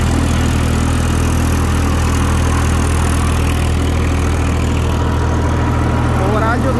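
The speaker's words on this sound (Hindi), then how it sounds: "ओवरऑल जो रोटावेटर का परफॉर्मेंस है वो आप लोग देख सकते हैं कैसा चल रहा है" A 7 ft KSD rotavator driven by a Massey 103 tractor at steady 1500 RPM, giving a loud continuous low engine drone with churning mechanical rumble throughout, speech-like voice present over it.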